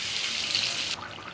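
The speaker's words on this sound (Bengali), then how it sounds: "কষানো হয়ে গেছে, এবার দিয়ে দেবো জল।" Water pours steadily into a pan of spiced potato and tomato curry base for a fish curry, a close, even rush that cuts off sharply after about a second.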